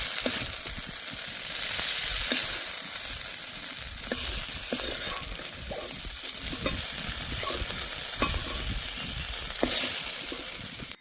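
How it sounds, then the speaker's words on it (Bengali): Prawns sizzle steadily in a hot pan for a Bengali potol chingri dish, a dense continuous frying hiss broken by regular scraping strokes of a spatula stirring them, close and loud with no talking. "চিংড়ি মাছগুলো ভালো করে ভেজে নিয়েছি, এখন তুলে নেব"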